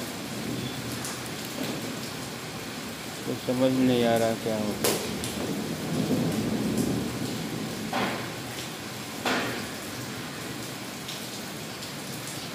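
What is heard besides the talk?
heavy rain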